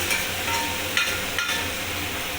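Loach fish frying in a spiced masala gives a steady, close sizzle, with a couple of brief scrapes as the pan is stirred.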